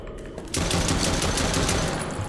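Automatic weapon fire in the body cam horror game Chuxie: a short quieter lead-in, then a sudden burst of rapid, loud, close gunshots that keeps going steadily to the end.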